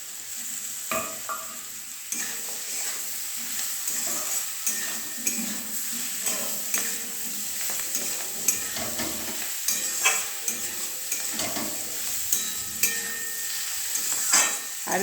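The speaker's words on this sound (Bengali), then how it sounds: "দেখো দিলাম একসঙ্গে হলুদ নুন দিয়ে ফ্রাই করছি।" Vegetables frying with turmeric and salt in a pan, a constant sizzle under repeated scraping stirs and light clinks from a utensil, close and steady throughout.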